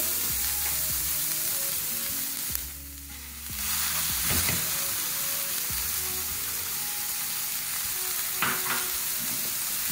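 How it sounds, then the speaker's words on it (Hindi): Mashed potatoes are stirred into vegetables frying in a pan on medium flame for vegetable kababs, a steady close sizzle with stirring scrapes and a brief quieter dip partway through. "ये आलू भी शामिल कर दिए, उसको मिक्स कर दिए सब्जियों के साथ"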